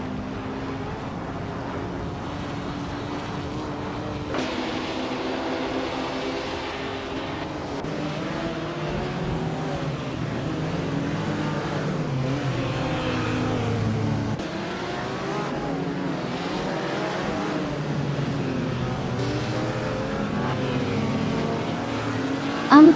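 A Ferrari 250 Testa Rossa race car engine in a racing game drones steadily at high revs, its pitch rising and falling through gear changes across a long, continuous run, with no talking.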